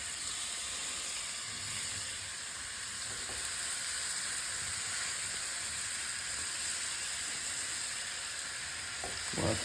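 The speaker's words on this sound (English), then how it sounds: "We're just gonna lay them in here and let them start to sizzle." Steady, loud sizzling of meatloaf kebabs frying in a hot pan, a continuous crackling hiss with occasional stirring scrapes.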